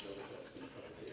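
A dog gives soft, high whimpers indoors, faint and close, a few thin whining cries over a quiet background with no clear talk.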